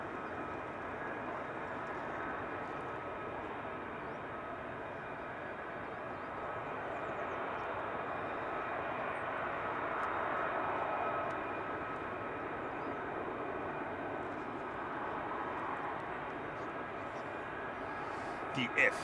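F-35A and F-15E fighter jets taxiing at RAF Lakenheath produce a steady, broad engine roar and whine from some distance, swelling slightly midway through, with no talk over it.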